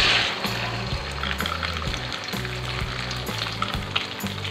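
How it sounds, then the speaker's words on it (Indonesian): Beaten eggs frying in vegetable oil give a steady, loud sizzle that runs the whole time, close and continuous, with brisk stirring scrapes and a pulsing, rhythmic clatter underneath. "Dan sekarang aku langsung aja goreng."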